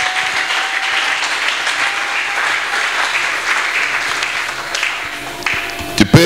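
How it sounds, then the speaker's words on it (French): A church congregation claps and cheers in praise of the Lord, steady dense applause filling the room for several seconds before a few sharper, louder claps near the end; no one speaks. "Acclamez le Seigneur"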